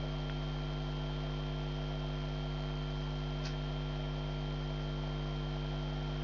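Small motor turning a motorized world globe driven by an Arduino, a steady continuous electrical hum with faint mechanical noise and one tiny click, constant and close.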